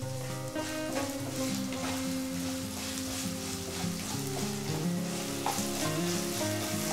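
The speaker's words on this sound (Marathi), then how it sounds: "कैरी छान अशी फ्राय करायची आहे।" Raw mango pieces fry in a pan over a low-to-medium flame while methamba is being made, giving a steady, even sizzle that continues throughout with no talking.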